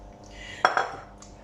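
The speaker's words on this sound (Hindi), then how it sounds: "मिक्स आपने इसे बड़े बाउल में करना है ताकि आपके दोनों मिक्सचर अच्छे से रेडी हो जाएं।" A utensil stirs no-bake Snickers cheesecake mixture in a large bowl, giving two quick close clinks against the bowl over quiet kitchen background, with a faint tap shortly after.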